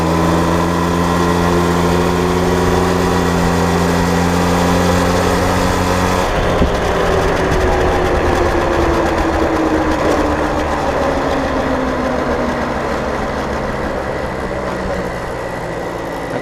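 Barn-find 1979 Motobecane moped engine running loud and close, a buzzy high-pitched drone that drops suddenly partway through, then slowly sags in pitch as it struggles to idle.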